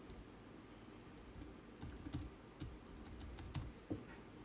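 Someone types on an English-layout computer keyboard during a live software demonstration, producing soft, irregular clusters of keystrokes that sound fairly faint and close, with no talking.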